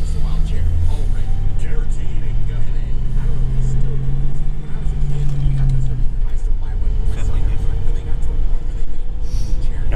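A Crown Vic with a manual 5-speed gearbox drives along, its engine droning and revving up then settling under steady road rumble, close and loud, while people talk inside the car.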